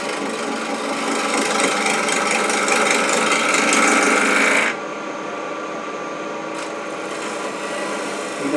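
Pull cuts on a wood lathe make a continuous scraping, rasping hiss that is loud for about five seconds, then drops abruptly to a quieter steady spinning whir.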